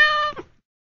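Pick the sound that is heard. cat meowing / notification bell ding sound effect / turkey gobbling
cat meowing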